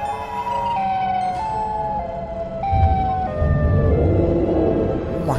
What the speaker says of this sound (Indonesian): Itu suara Siren Head teman-teman.